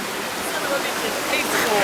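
A very small waterfall in the Fuji Five Lakes and Hakone area of Japan, its ice-cold water giving a steady, loud, close rushing hiss that fills the whole clip without pause.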